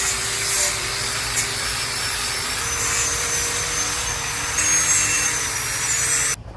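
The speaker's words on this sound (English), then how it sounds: "the seat is all sanded down" A go-kart seat is sanded with a steady, close, continuous abrasive rasp that holds an even level throughout and cuts off abruptly at the end, with no talking.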